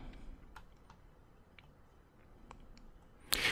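Keys pressed on a Casio fx-9860GII graphing calculator: a scatter of soft, faint clicks spaced irregularly, then one sharper, louder press near the end, with no voices.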